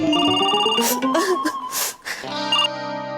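A telephone rings in a Hindi TV comedy serial scene, its bright, melodic ringtone repeating steadily while voices talk over it.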